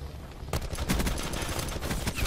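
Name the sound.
gunfire in Call of Duty Black Ops 4 video game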